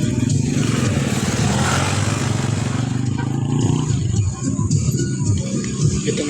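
A green Viper motorcycle idles and rumbles close by on a jogging road in Bustos, Bulacan, its engine droning loudly and steadily with a slight rise near the end while people talk over it.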